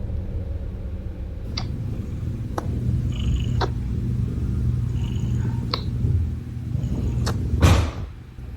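A cat purrs in a low, steady rumble close by, with a few sharp clicks and taps scattered over it and a louder burst near the end.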